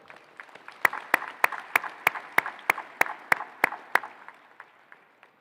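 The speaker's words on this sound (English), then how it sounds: "Seniors, let's give your parents and your guardians one last round of applause there." Seniors at a high school graduation applauding their parents and guardians, heard here as a slow, evenly spaced series of sharp single claps, about a dozen crisp beats rising then fading, fairly near and alone.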